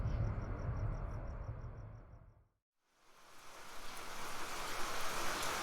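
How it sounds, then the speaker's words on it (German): Steady rain falls behind mountains under heavy grey clouds, a broad even hiss that fades out into a brief silence and then returns just as full. "Hinter den Bergen hängen dichte graue Wolken am Himmel und es regnet."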